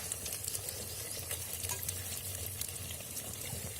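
Eggplant fries in oil in an earthen pot, giving a close, continuous crackling sizzle with faint stirring.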